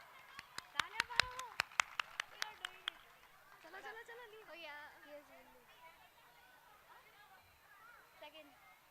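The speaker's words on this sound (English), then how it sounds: "Big round of applause." Brief burst of clapping at a school annual event, sharp evenly spaced claps over the first three seconds, then a voice and background chatter take over.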